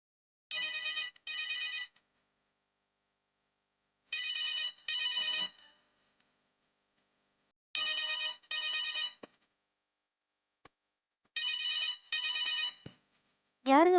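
A telephone rings in a domestic scene from a Tamil TV serial, four clear double-burst rings spaced evenly with silence between, and a voice starts right at the end.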